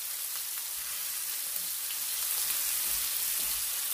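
Ginger garlic paste fries in a pan, a soft continuous hiss and faint crackle, fairly quiet and even throughout, with no voices.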